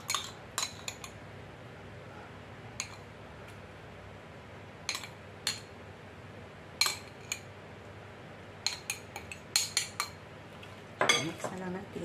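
Utensils mix a strawberry and avocado salad in a bowl, making irregular metallic clinks and scrapes in short bursts. A busier flurry comes near the end, over a quiet background.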